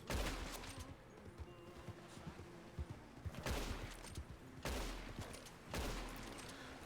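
Gunfire in a roleplay video game: bursts of rapid shots in several separate volleys, sharp and fairly loud against a quiet background, with no talk.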